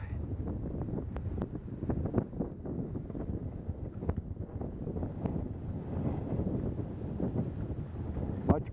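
Steady, blustery wind rumbles against the microphone throughout along the banks of Toledo Bend reservoir while bass fishing, with occasional sharp clicks and knocks over the low roar.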